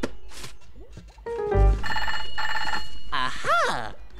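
Telephone ringing in a Bananas in Pyjamas cartoon, a loud repeated electronic trill in two bursts after a few short cartoon sound effects, followed by a rising chirpy tone.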